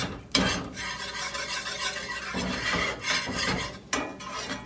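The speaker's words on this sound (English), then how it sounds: "Just keep stirring it around." Beef tips brown in a hot pan while a utensil stirs them, making scraping, rasping strokes with louder hits at the start and near the end over a low sizzle, close and alone.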